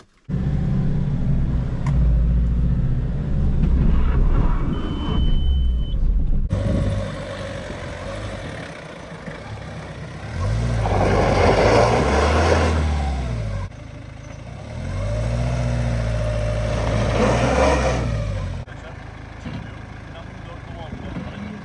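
A Suzuki Vitara 1.9 diesel 4x4 strains off-road with its wheels spinning, its engine rising in repeated loud revving surges between quieter idling stretches, while people talk over it.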